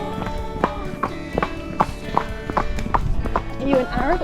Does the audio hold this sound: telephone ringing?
no